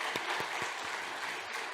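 A church congregation at a Sunday worship service applauding, a brief burst of hand claps with several distinct beats, moderately loud and filling the room.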